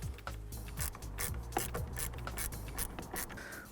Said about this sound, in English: We're going to put the nut on and just make sure that that's tight and secure.